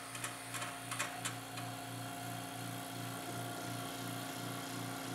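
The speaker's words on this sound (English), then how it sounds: "So this is called an investment machine." An investment vacuum machine for lost wax casting runs with a steady low motor hum and a regular pulsing throb, a few light ticks and clicks near the start, heard close and moderately loud without speech.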